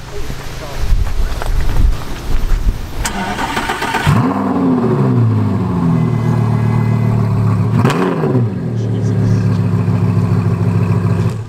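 A BMW M2 at a car meet cranks and fires up with a loud, close engine start, a brief rise in revs that settles into a deep idle, then a second blip; voices talk throughout.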